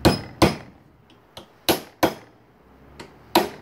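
A hammer taps a spoon clamped in a vise, bending it into a ring: seven sharp metallic strikes at uneven intervals, each ringing briefly, close and clear with no talking.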